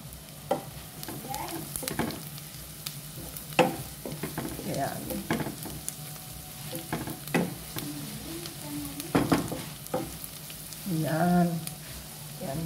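Garlic frying in a pan after onions, a soft sizzle underneath intermittent stirring scrapes and clinks of a utensil, fairly quiet and close, with no speech.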